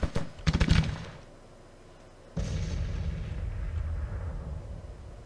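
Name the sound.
horse artillery cannon fire in Grand Tactician: Civil War video game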